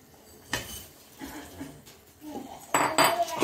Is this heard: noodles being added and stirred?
yes